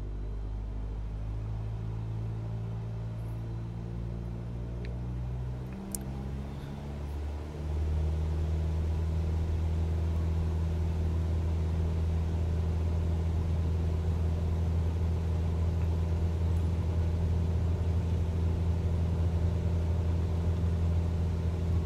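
Aircraft engine in Microsoft Flight Simulator throttling up for takeoff: a low steady drone that rises in pitch and grows louder around midway, then holds a heavy continuous rumble, with no talk.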